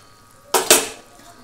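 A spoon knocks twice against a metal pot of small-fish curry as it is gently stirred, two quick clanks close together that ring briefly and fade, with no one talking.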